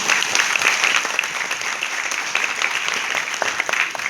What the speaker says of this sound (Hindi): एक बार जोर ताली इनके लिए